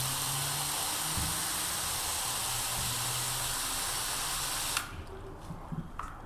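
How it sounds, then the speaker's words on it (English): Water flooding across interlocking garage floor tiles, a steady close hiss and splash that runs for several seconds, then cuts off, leaving faint drips and trickles. "I'm just going to flood this area."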